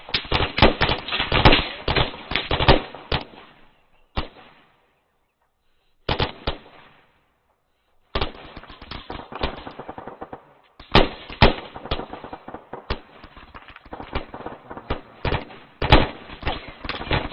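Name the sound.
gunfire during a military training exercise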